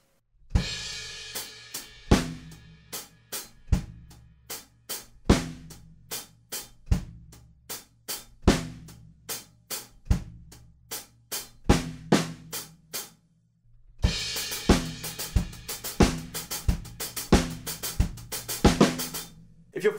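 Slow drum kit groove with accented sixteenth-note hi-hats, steady kick and snare hits, played alone at a deliberate tempo with a brief pause partway through, from a drum lesson.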